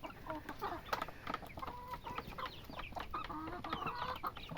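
Several chickens cluck and chatter close by at a backyard poultry pen, overlapping calls continuing throughout with a soft rustle of the flock underneath.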